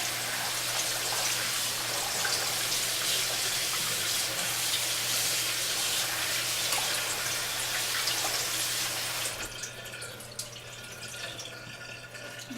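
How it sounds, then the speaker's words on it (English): Cold tap water running steadily into a container while chicken liver is washed, a continuous splashing flow that cuts off near the end, leaving faint drips and small handling sounds. "First I put the liver in here, put it on cold, and wash the liver."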